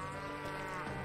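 A cow in the Western shooter game Call of Juarez Gunslinger lets out a single sustained low moo that fills the whole moment, with no talking over it.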